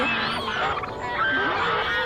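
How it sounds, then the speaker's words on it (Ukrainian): Geese honk in a Squid Game themed video game, several squawking, rising and falling calls from the flock in quick succession, fairly loud with no talk over them. "Так, гуси."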